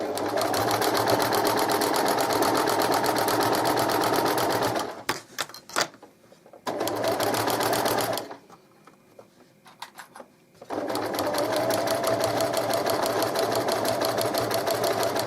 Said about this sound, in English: that's why you're putting this extra line of top stitching around